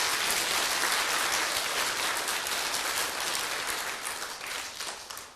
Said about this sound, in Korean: 여러분이 우승한 거 아니래도 좀 박수 좀 세게 쳐줘봐